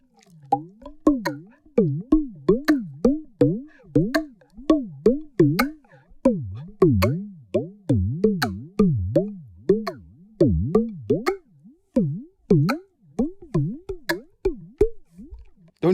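A Moog 12-stage phaser at a faster rate sweeps over a steady rhythmic sequence, its resonant comb-filter peaks warbling rapidly and bubbling up and down in pitch under each sharp note, with no voice.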